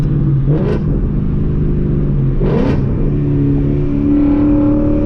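A car engine, with traction control switched off, gives two sharp throttle blips while downshifting, rising over a loud, steady idle drone heard close up from inside the car.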